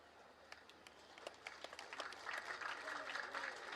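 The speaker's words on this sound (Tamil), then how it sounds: "இப்ப கைத்தட்டல் கூடுதலா வரும் பாருங்க" Audience applause at a Tamil public speech, starting as scattered claps and swelling into dense, sustained clapping from a live crowd, with voices mixed in.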